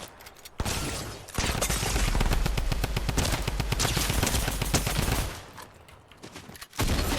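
A minigun fires in the video game Fortnite, a loud, sustained rapid-fire burst lasting several seconds, framed by brief quieter game sounds before and after.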